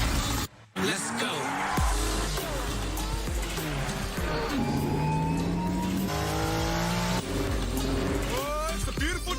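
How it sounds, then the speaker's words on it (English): Cars race through a chase scene, engines revving and tires squealing in repeated rising whines, loud and close, mixed with voices and music throughout. "it's a beautiful day for a car chase"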